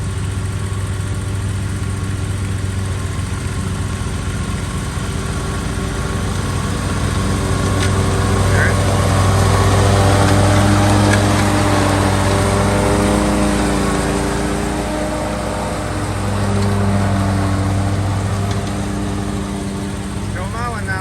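A small lawn mower engine runs steadily and loudly up close while mowing a small front yard, its droning hum holding an even pitch for the whole stretch with slight swells in load.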